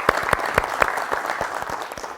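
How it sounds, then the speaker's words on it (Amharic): An audience claps warmly at a music competition, a brisk, fairly close patter of hands that continues steadily and fades a little toward the end. "ሞቅ ያለ ጭብጨባ ይደረጋል"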